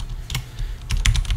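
Rapid typing on a computer keyboard, close and fairly loud, with a steady patter of key clicks and a few heavier strokes, with no one talking.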